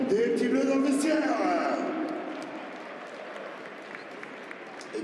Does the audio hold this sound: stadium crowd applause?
yes